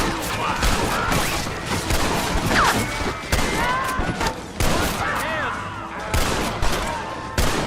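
Dense bursts of gunfire from a Red Dead Redemption shootout crack loud and near, overlapping shots in rapid volleys throughout, with shouted voices mixed in.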